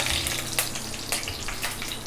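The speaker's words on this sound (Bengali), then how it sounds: "বেরেস্তা ভাজা তেলেই দিয়ে দিব গোটা মশলা, তেজপাতা, দারচিনি সব কিছু দিয়ে কিছুক্ষণ ফোড়ন তুলে নেব" Whole spices with bay leaf and cinnamon sizzle in half a cup of hot oil left from frying onions, a steady crackling hiss broken by sharper pops and spits.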